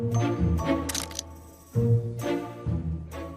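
A camera shutter fires repeatedly while photographing dogs at a doggy day care, giving several crisp clicks in irregular bursts over a steady hum of background noise.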